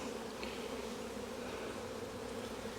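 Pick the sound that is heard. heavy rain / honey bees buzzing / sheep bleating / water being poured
honey bees buzzing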